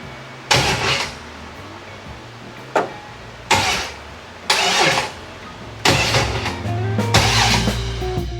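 Buick 455 V8 cranked by its starter in about six short, separate bumps while the timing is set, each a loud, brief whirring churn with quiet gaps between, the last bursts running longer.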